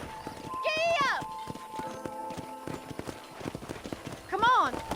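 Horse hooves in a Red Dead Redemption cowboy game clip-clop at a steady gallop, loud and close, with a horse whinnying at the start and again near the end, under spoken dialogue.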